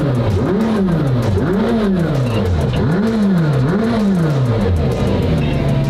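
A McLaren Senna carbon supercar engine revs hard and close, rising and falling in about four loud, sweeping pulls before settling to a steady idle.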